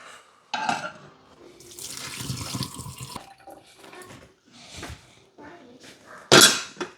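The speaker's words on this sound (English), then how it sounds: "Now you're going to go ahead and drain off all the water." Water pours and splashes into a sink in uneven bursts as a cooking pot is drained, with metal pot clanks and a sharp clatter near the end; a voice speaks faintly at times.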